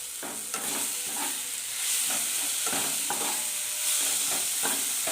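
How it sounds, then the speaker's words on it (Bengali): Spices with Kashmiri chili powder fry in a pan while being stirred, close sizzling broken by repeated scraping strokes of the spatula, a few seconds long with no voices. "মশলাটা একদম ভাজা ভাজা হয়ে গেছে, মশলাটা খুব সুন্দরভাবে কষানোও হয়ে গেছে"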